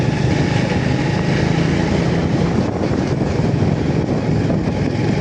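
Motorcycle ridden along a winding road, its engine a steady, loud drone mixed with rushing wind noise, continuous throughout with no talking.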